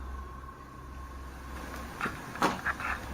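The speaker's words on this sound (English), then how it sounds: "That could just be the sound of the door closing" A door is shut after a quiet stretch of low hum, giving a cluster of soft knocks and thumps near the end, fairly close.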